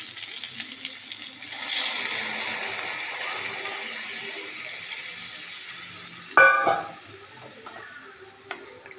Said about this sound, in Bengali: এবার এতে একটু গরম জল অ্যাড করছি।